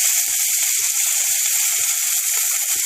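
Potatoes frying in hot refined oil in a kadai, a steady loud hiss and crackle with faint regular clicks about every half second, close and with no talk.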